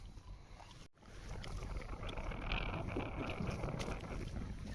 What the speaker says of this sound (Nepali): हावा चलिहाल्यो नि